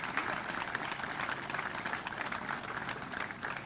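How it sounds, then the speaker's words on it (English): A ceremony audience applauds for General Langley at a Montford Point Marine Day event, with steady, dense clapping from many hands throughout. "How about a hand of applause for General Langley?"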